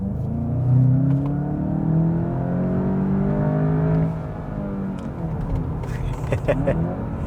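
A Volkswagen Jetta GLI 350 TSI with DSG7 gearbox revs hard, its engine pitch climbing steadily as it accelerates, then easing into a lower, rougher drone.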